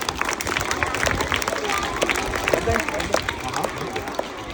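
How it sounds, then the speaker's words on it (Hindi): A crowd of primary schoolchildren claps in a classroom, dense continuous applause with chatter mixed in, sustained throughout. "चलिए साहब तालियां बजा दीजिए इनके लिए।"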